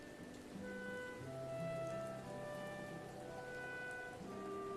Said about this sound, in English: Just listening to some Zelda music, some rainy Zelda music